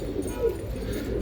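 Low, steady cooing of pigeons, including racing pigeons kept for tournament flying, murmurs continuously through the whole short stretch at close range, with no talk.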